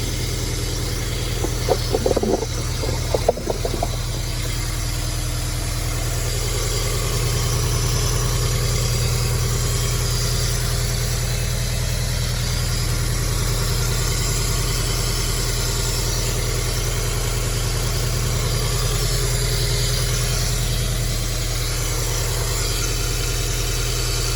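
A turbocharged Toyota GT86 engine idles steadily on its first start after the turbo install, with a deep, even rumble, a few brief clicks and knocks near the start, no voices.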